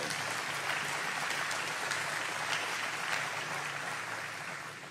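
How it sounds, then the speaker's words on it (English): Audience applause at a transit address, a broad, even roar of many hands clapping that holds steady and then slowly fades. "That's worth applauding for."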